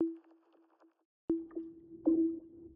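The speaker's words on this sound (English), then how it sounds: "Ooh, electric water drum." Watery, resonant synth drum hits from an 'electric water drum' preset in the Lunacy Audio BEAM plugin ring out in a short sequence, each with a pitched tone and bubbly, gurgling decay.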